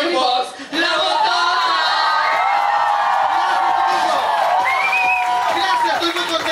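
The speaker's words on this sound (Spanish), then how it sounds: "tiene que ser fuerte la ovación para despedirla" Crowd in a nightclub roars with cheering, whoops and shouted voices during a send-off ovation, loud and continuous after a brief dip at the start, with high yelling voices rising over the din.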